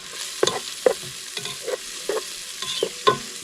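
A plastic fork stirs beaten eggs frying in a camp pan outdoors, scraping in about eight quick separate strokes over a soft sizzle, close up with no talking.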